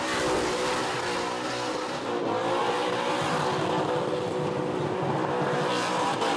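Toyota Corolla with a V8 LS1 engine spinning continuous burnout donuts beside a concrete barrier at a burnout competition, a loud sustained engine roar with screeching tyres and dense crowd-level noise throughout, no pause in the revving.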